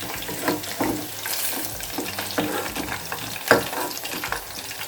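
Chicken kabab pieces deep frying in hot oil give a steady, close crackling sizzle with bursts of bubbling and occasional stirring clatter throughout, with no talking.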